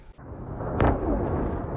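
Explosions in Tehran thunder nearby as a dense, loud rumbling blast that swells after a sharp onset, with a brief crack in the middle and no speech over it.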